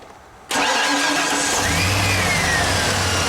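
A 1995 Ford F150 truck engine cranks and catches about half a second in, then settles into a loud, steady idle with a faint rising whine, close and continuous with no talking.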